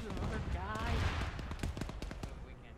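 Rapid bursts of game gunfire crackle in a dense, continuous barrage, with sharp repeated shots layered over rumbling booms and a faint voice underneath.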